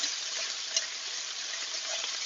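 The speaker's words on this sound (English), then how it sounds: "let that caramelize a little bit. Keep stirring it. The pan is quite hot." Lamb shanks caramelize in a very hot pan with a steady, bright, close sizzle that runs unbroken throughout, with faint scraping from stirring.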